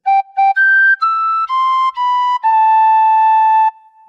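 A tin whistle plays a short Happy Birthday phrase alone: two quick repeated notes, then a run of clear held tones ending on a long sustained note.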